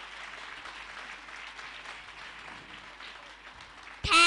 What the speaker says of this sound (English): Do give a huge round of applause for all my dear friends and teachers.